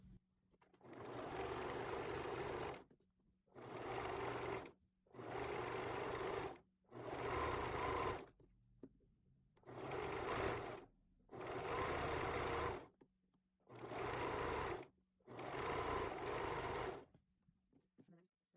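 A sewing machine runs a multi-step zigzag stitch along an elastic waistband on lace underwear, sounding in eight loud bursts of rapid mechanical whirring, each separated by brief pauses.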